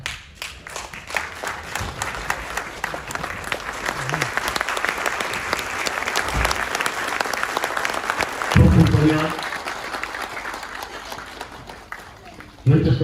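A standing audience breaks into sustained applause, many hands clapping in a dense, loud, even roar close by for the whole stretch, with a few thumps and brief murmurs of voices under it.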